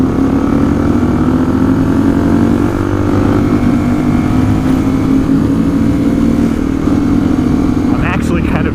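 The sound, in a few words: Honda XR400 dirt bike engine while riding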